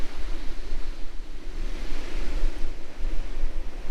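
Heavy waves surge and wash back at the shoreline of Withernsea on England's east coast, a constant close roar of surf mixed with gusting wind noise and no talking.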